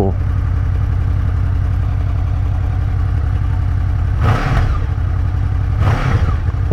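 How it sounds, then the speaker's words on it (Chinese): Honda VFR800F V4 motorcycle engine running steadily with a low, even throb, swelling into two short throttle blips near the end; loud and close, with no talk over it. "先把引擎开起来，然后听一下声浪"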